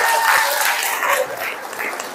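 Audience applause during a teachers' classroom workshop, a dense burst of clapping that continues steadily and then thins slightly, with a voice faintly under it.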